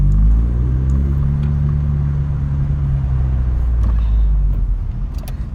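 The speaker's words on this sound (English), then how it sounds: "just get over these speed bumps" A Vauxhall Cavalier Mk2 with an SRi130 engine rolling over speed bumps, a loud, close, deep engine drone that holds steady and then eases off, with a few light knocks near the end.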